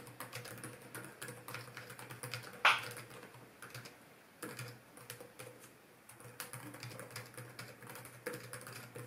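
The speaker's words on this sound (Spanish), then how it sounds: "Hemos puesto esta cámara directamente enfocando hacia el teclado para que veáis cómo suena" Steady typing on an inexpensive keyboard case for an Apple iPad Pro, close and fairly quiet, with irregular bursts of soft key clicks, brief pauses and one sharper tap partway through.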